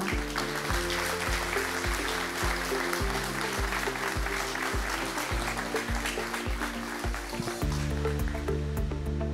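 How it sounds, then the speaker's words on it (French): An audience at an agricultural awards ceremony in Ain claps for the prize winners, a dense, sustained round of applause heard throughout, with a steady low hum beneath. "On peut les applaudir."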